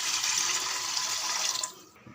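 Water is poured from a small vessel into a pongal pot already holding milk, a steady, close splashing stream that runs for about a second and a half and then stops, leaving near silence.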